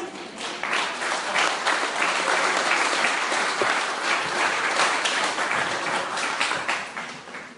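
A church congregation claps during a Spanish-language sermon on the parable of the workers in the vineyard, a full, even burst of applause that holds for several seconds before tapering off.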